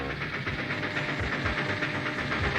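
An animated steam train arrives, with a near, loud rhythmic chuffing and clattering under a steady hiss. The beats repeat about every half second.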